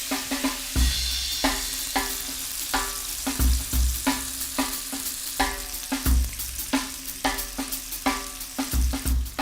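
Potatoes and sausages sizzle in a frying pan with a steady fry hiss, broken by repeated scrapes and knocks of stirring, close and fairly loud with no voices.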